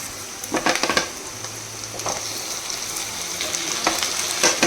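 Food fries in a pan before tomato goes in, with a steady crackling sizzle and a few sharp scrapes or stirring knocks near the start, close and fairly loud with no talking.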